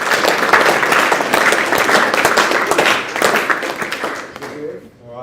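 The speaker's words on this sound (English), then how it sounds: "we'll give them a round of applause anyway" Audience applause at a New Zealand young pipers' competition results presentation, a dense, steady clapping from a crowd that fades out near the end.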